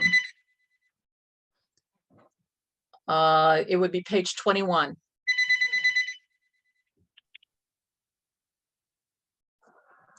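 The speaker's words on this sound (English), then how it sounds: "I'm sorry, that's my phone." A mobile phone rings during a wetlands meeting, a bright electronic ringtone in two bursts, the first cut short at the start and the second near the end. A person speaks between the two rings.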